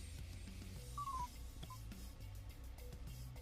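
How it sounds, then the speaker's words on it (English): An Auda-Tech display device powering off plays a short series of electronic beeps and tones at low level, ending with a brief click. "then let go, it powers the device off and you get sounds"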